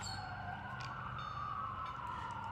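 Emergency vehicle sirens wail steadily in the background, a continuous rising and falling tone held at moderate level over low traffic rumble for the whole stretch.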